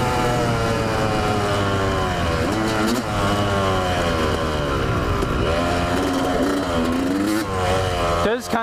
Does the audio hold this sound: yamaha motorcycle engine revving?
yes